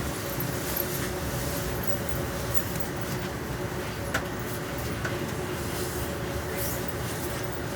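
Steady rumble of a passenger train riding along the line toward Trenton, New Jersey, after leaving Philadelphia's 30th Street Station: continuous low rolling noise at even loudness with faint rattles and a brief clank near the middle.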